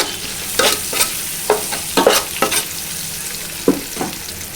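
A spoon stirs turmeric through a frying fish curry masala on a low gas flame, giving a steady sizzle broken by a string of close, sharp scraping strokes at an uneven pace, with no voices.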